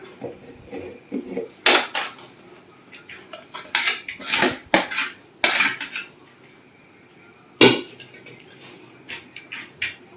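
Metal pots and utensils clatter and clank in sharp irregular bursts while biryani rice is layered into a pot, with quieter scraping and shuffling between the louder knocks.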